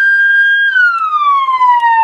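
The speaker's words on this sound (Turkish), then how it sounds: "Sirenleri duyuyor musunuz?" An emergency vehicle siren wails steadily and alone, loud and close, holding one tone and then sliding slowly downward in pitch.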